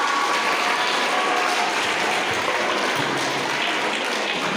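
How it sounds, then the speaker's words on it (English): An audience at a school English elocution contest for classes 6 and 7 applauds a student performer, a thick, even wash of many hands that stays steady and fairly loud throughout. "Let's welcome him with a huge round of applause"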